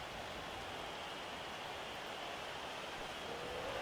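Rain falls in the Blood Bowl 3 video game as a constant, even hiss with no voices over it.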